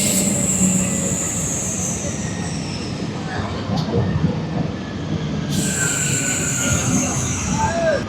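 The Guntur–Repalle MEMU passenger train, number 67223, rolls along with a continuous rumble of wheels on rails. Metallic wheel squeals rise and fade at intervals throughout, loud and close from on board.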